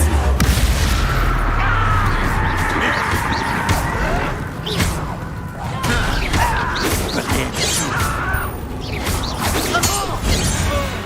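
Blasting-spell explosions and crashes ring out in a Harry Potter video game, a dense run of booms, smashes and shattering debris impacts, loud and close throughout.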